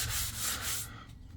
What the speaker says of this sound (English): So as I'm sanding,